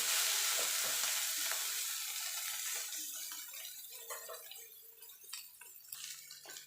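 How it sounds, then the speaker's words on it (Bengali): Bitter gourd with slit green chillies sizzles loudly in a frying pan, the hiss easing over time while close spatula scrapes and taps punctuate the stirring. No voices are heard. "দেখুন বন্ধুরা, আমার উচ্ছেটা ভাজা ভাজা হয়ে গেছে।"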